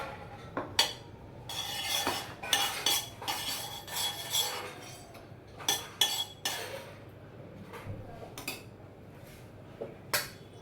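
A spoon repeatedly clinks and scrapes against a pan as ghee is added while making ragi laddus, irregular close metallic taps and scrapes with no talking.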